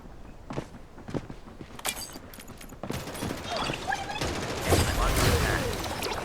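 Gunfire in the battle royale game Farlight 84, a scatter of sharp bursts and single shots building into denser, louder firing toward the end, mixed with footsteps and mechanical clatter.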